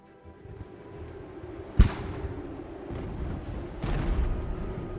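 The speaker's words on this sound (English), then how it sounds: "Oh, the first of the enemy guns have opened up." Enemy artillery guns firing in Ultimate General: Revolution, two sharp booms a couple of seconds apart, the first loudest, over a steady rumbling battlefield background.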